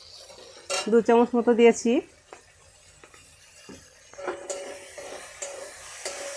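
A spoon scrapes and clinks against a pan while flattened rice (chira) breakfast is stirred with soy sauce, light metallic knocks and rustling following a brief spoken line, fairly close and moderately quiet.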